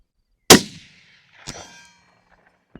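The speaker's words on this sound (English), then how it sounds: "Let's try the echo gong." A rifle bullet strikes a steel echo gong target on a long-range course with a sharp single metallic clang that rings briefly, followed by a fainter second ring about a second later and a tiny tick at the end.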